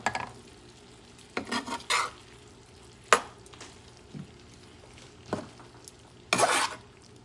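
Squid ink pasta with squid, shrimp and scallops is tossed and stirred in a pan: scattered scraping and clinking of utensil on metal in short bursts over a faint sizzle, with quiet gaps between.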